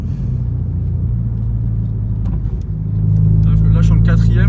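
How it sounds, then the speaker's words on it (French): A Polo R WRC 400hp car in fourth gear at full throttle, a loud, steady low engine drone that swells louder partway through, with someone talking over it near the end. "Là je suis en 4ème, j'appuie pied plancher."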